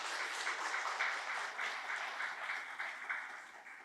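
Audience applause at a Trisuci Waisak puja gathering in Indonesia, a steady wash of many hands clapping that holds for about four seconds at moderate distance with no voices over it.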